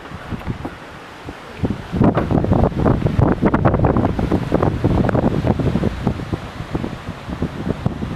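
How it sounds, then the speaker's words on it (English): Strong wind gusting around a van beside a fishing lake, a loud roaring buffet that hits the microphone hard and keeps rumbling without a break after a brief calmer start. "I'll just show you just how bad the wind is."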